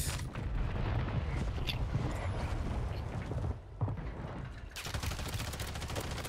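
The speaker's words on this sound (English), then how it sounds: "I'm gonna keep shooting" Dense gunfire from a Call of Duty match on Rebirth Island, with rapid bursts and volleys running almost without a break at steady loudness and a brief lull near the middle.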